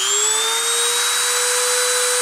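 Machine spindle spinning at around 30,000 RPM, a loud, close, steady high-pitched whine with a faintly rising tone over a broad hiss, running alone without talk.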